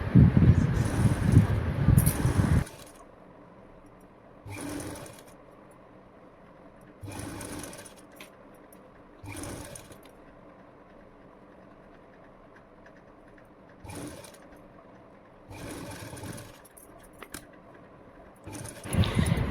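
A sewing machine stitches lace onto a blouse in short, loud, rapid bursts of rattling stitching, the first one long, then separated by quiet pauses.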